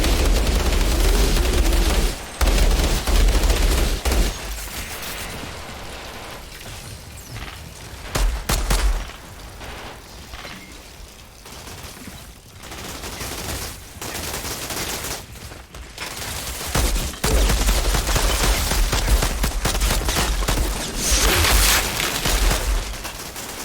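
Gunfire in the shooter game Outriders, with bursts of automatic fire and loud booming blasts coming in waves, broken by quieter stretches.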